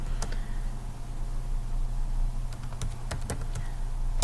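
Typing on a computer keyboard: a near, uneven run of key clicks that grows busier toward the end, over a steady low hum.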